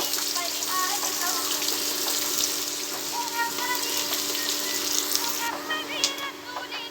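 Chopped onions sauté in a pan for a white kurma, giving a steady close sizzle with faint watery crackle that runs unbroken throughout.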